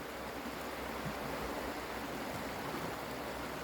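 Cold river flowing past moss-covered rocks, a steady broadband rush of water close by, continuous and alone.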